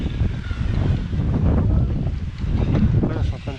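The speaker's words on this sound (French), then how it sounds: "Ça c'est le vent là. Il souffle en fait de par la gauche" Wind buffeting a microphone outdoors, blowing from the left, a loud rumbling roar of low gusts that swells and eases throughout, with a voice speaking faintly beneath it.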